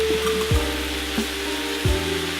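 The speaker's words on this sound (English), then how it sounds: "you're gonna take your mushrooms and add it right into the green peppers and onions" Mushrooms with green peppers and onions fry steadily in a pan, a continuous close sizzle with a few scraping stirs of a utensil cutting through; no speech.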